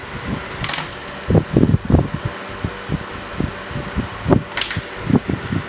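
A DeWalt DCE511B cordless jobsite fan runs at maximum with a steady airy whoosh, broken by a series of close clicks and knocks, with no talking.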